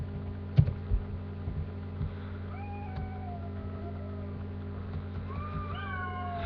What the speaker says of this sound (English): And there go the cats again.